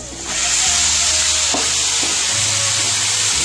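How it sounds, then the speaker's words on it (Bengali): Marinated chicken drops into hot oil in a pan and sets off a loud, sustained sizzle that rises almost at once and holds steady, with faint clinks underneath. "এবার আমি চিকেনটা অ্যাড করে দেব।"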